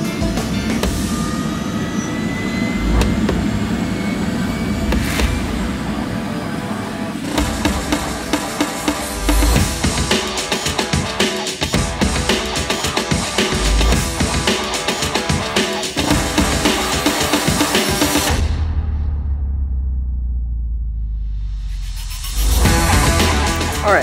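A helicopter flying toward Aspen in the mountains drones with a loud, rapidly pulsing rotor chop, briefly dropping to a low hum before the noise returns.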